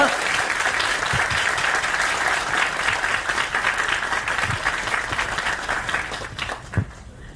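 Sustained applause from a student debate audience greeting former People Power Party leader Han Dong-hoon, steady and full throughout with a little crowd noise and a voice underneath.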